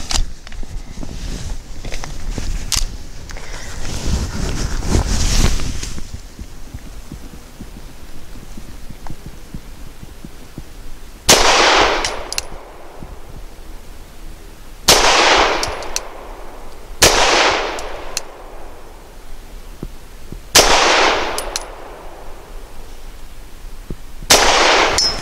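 Five loud, sharp pistol reports from a Tisas Zigana F firing Nosler 115 grain match rounds at 7 yards, spaced irregularly a few seconds apart, preceded by handling clatter and rustling.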